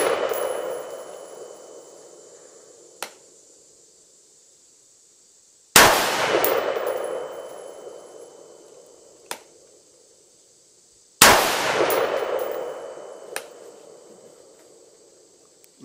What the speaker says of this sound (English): So I'm shooting right past my camera.